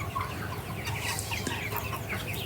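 Free-range label chickens clucking and murmuring close by in a flock, a continuous busy chatter of soft clucks and calls with no voices.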